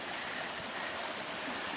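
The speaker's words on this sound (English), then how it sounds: "This is Deer Spring, or one of the arms of Deer Spring." Water flowing at Deer Spring on the Pacific Crest Trail, a steady broad rushing murmur with no pauses, moderately faint and even throughout, with no voices.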